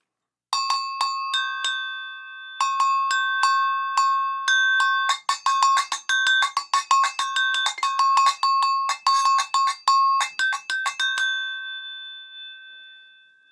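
Refinished thick-metal agogo bells with a clear coat, struck in bright, ringing two-tone patterns, first sparse single hits and then a faster rhythmic run, each strike sustaining briefly, played alone up close.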